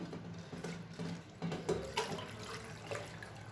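Running tap water pours steadily over poha (flattened rice flakes) held in a strainer in a kitchen, a continuous close splashing and trickling wash with small clinks and drips.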